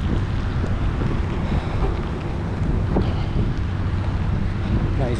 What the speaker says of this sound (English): it's a lot of windy right now